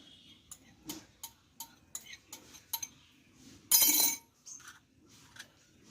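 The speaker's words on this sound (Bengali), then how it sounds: "আমি এক চিমটি লবণ দিয়ে দেবো দিয়ে ডিমটা ভালো করে আমি গুলিয়ে নেব" An egg beaten with a pinch of salt in a bowl, with sparse light metallic clinks and taps at an uneven rhythm and one louder, longer scraping burst midway, all close and fairly quiet.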